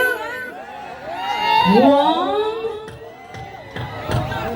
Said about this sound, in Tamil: ஒரு உற்சாகமான கரகோஷம் தரணும்